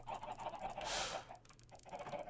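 Minecraft chickens cluck softly and sporadically in the distance, with a brief noisy burst midway, faint overall.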